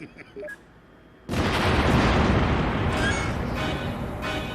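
Nuclear missile blast in the Sam & Max video game, a few brief electronic beeps followed by a sudden huge explosion that roars loudly and keeps rumbling for several seconds.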